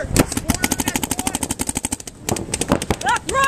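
Rapid automatic gunfire in a video game, a long burst of evenly spaced shots lasting about two seconds, then a brief pause and more shots, with a voice speaking faintly underneath.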